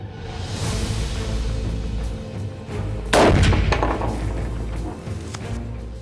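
A single sharp rifle shot fired while zeroing a thermal riflescope cracks out about halfway through, loud and close, with a short decaying tail over a steady outdoor background rumble.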